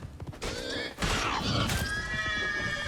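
A horse in Witcher 3: Blood & Wine gives a loud whinny, with clip-clopping hooves and game effects around it.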